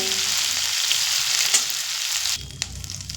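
Prawns sizzle in hot oil in a pan, a loud, bright, steady crackle that drops abruptly to a quieter sizzle with a few clinks near the end.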